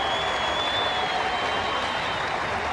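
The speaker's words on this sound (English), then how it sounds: "every run being greeted with a huge round of applause by this enthusiastic crowd" Cricket crowd at a 1995 South Africa versus England Test match applauding a run: a broad, even patter of distant clapping from a large stadium audience, steady and moderately loud, with a faint thin tone running beneath.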